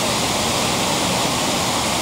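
Kezar Falls in Maine, water diverted over the falls near a hydro plant, a loud steady broadband rushing roar that stays constant throughout with no voices.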